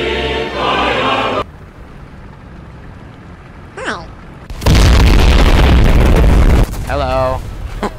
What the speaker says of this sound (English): Oh my god, that explosion is huge